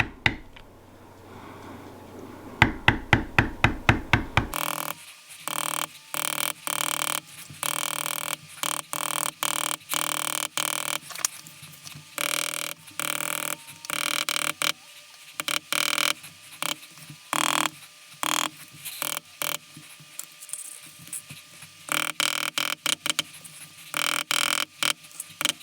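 A leather beveling tool struck to shape vines in tooled leatherwork, giving a long series of sharp, close taps. The taps come in quick, uneven clusters with brief pauses between them, and no one speaks.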